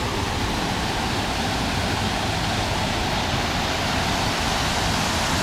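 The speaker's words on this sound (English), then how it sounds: "they've got just a beautiful water fountain, a waterfall, I should say, in his memory" Memorial waterfall in Coeur d'Alene pours steadily, a dense, even rush of falling water filling the whole span close by, with no voices over it.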